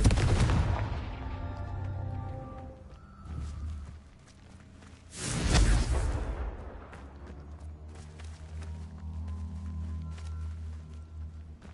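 Confringo fire spell blasts in the Hogwarts Legacy video game, two loud booming explosive bursts with crackling fire noise trailing after each, over a steady game background.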